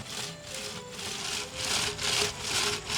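A sabotiere canister of ice cream is rotated by hand in ice, making a steady, rhythmic scraping and grinding that swells and fades in regular strokes, close and alone with no talking.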